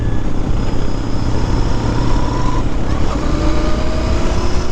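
A 2021 Royal Enfield Interceptor 650 motorcycle accelerates under a firm roll of the throttle, its engine a loud, steady, close-up drone mixed with rushing road and wind noise throughout.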